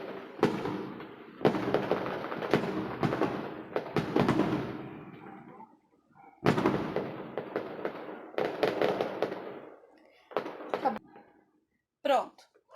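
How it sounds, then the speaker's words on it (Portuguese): Fireworks going off outdoors in rapid clusters of crackling bursts and pops, separated by short gaps, heard from indoors with a voice briefly audible. "Que legal, fogos."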